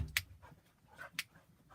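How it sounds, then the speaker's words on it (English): Dogs pant softly and give a few faint, high whimpers in a quiet indoor room, sporadic little bursts with short gaps between them and no voices. "my dogs. They're making me nuts."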